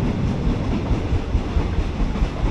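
Inside a carriage of ordinary train 259 on the Taling Chan Junction to Salaya line, a loud continuous rumble with clickety-clack of wheels over rail joints, close and alone with no talk.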